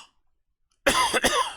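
A single close, loud cough bursts out after near silence, a harsh double hack with a brief rasping tail.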